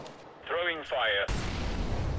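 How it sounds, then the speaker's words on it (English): An incendiary grenade is thrown in the game CS:GO. A brief voice-like tone comes first, then a sudden, loud, sustained roaring whoosh of fire fills the rest. "Throwing fire."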